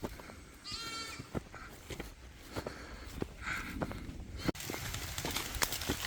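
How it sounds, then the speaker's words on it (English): Goats bleat faintly from afar in rural Jamaica, a few wavering cries scattered among nearby rustling and footsteps. "And as usual, goats in the distance."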